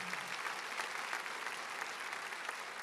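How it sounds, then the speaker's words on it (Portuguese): Congregation applauding in a church during a Mass homily, a steady, dense wash of many hands clapping at once, fairly quiet and distant, with no voices over it. "uma grande salva de palmas à Associação do Senhor Jesus por essa iniciativa"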